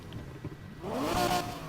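Lamborghini Murcielago V12 engine in the racing video game Need for Speed Heat, quiet at first, then revving up into a loud, rising snarl that holds steady before easing slightly.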